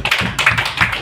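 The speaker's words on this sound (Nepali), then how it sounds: "अनि ताली चाहिँ एकदमै कम भएको लाग्यो" Sparse audience clapping at a farewell program, a thin patter of a few hands in quick uneven bursts, close and fairly loud, with no talking.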